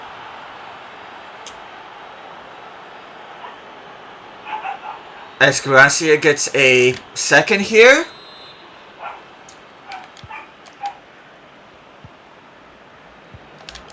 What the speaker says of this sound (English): Sorry if you hear that in the background, that's just my puppies.